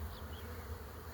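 Honeybees hum in a low, steady drone around an open beehive while its frames are worked, close and continuous though fairly quiet.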